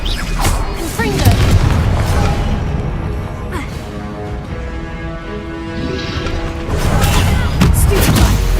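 Confringo fire-spell blasts in Hogwarts Legacy, heavy booming explosions with crackling debris, loudest near the start and end, under continuous game music and effects.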